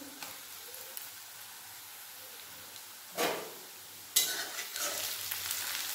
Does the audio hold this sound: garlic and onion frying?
yes